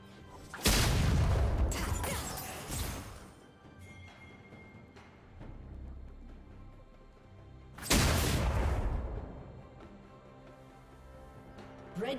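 A turret collapses in League of Legends, with two loud crashing, booming impacts several seconds apart, each fading into a rumbling decay over a quieter game soundscape.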